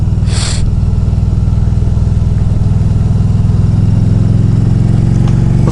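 A 2000cc street motorcycle engine rumbles steadily and loudly while being ridden, holding a continuous low drone throughout, with a brief airy burst of wind noise near the start.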